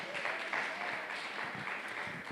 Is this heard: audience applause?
yes